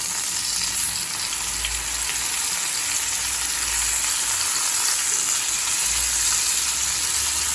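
Chicken leg pieces frying in a pan on a low flame give off a steady, even sizzle of hot oil that carries on without a break, close and fairly loud, with no one talking.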